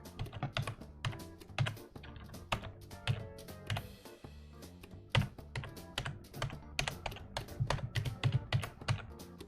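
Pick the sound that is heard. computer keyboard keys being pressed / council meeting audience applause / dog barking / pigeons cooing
computer keyboard keys being pressed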